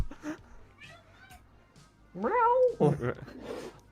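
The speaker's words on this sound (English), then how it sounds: "it's not my cat this time" A cat meows in a long rising-and-falling call close by, followed by a second shorter meow, with people talking around it.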